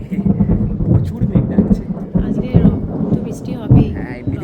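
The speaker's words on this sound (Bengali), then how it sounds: "মেঘ ডাকছি" Monsoon thunder rolls in a deep, loud, continuous rumble that swells and fades in uneven pulses, with rain faintly underneath.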